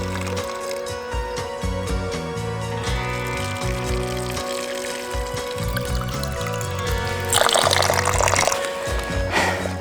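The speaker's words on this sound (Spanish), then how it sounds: "Pues aquí tenemos el agüita de la fuente," Mountain spring water trickles and splashes continuously, with a brighter gush toward the end, as if poured or running into a container, over faint background noise.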